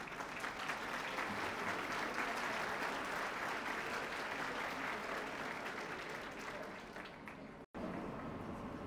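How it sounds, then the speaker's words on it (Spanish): An audience at an arts and humanities congress gives a sustained round of applause, loud, continuous clapping that holds steady, then thins slightly and cuts off briefly near the end. "Demos un fuerte aplauso"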